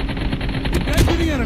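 Call of Duty: Mobile gunfire, a dense rapid burst of loud shots under a continuous noisy background, with a brief sweeping tone near the end.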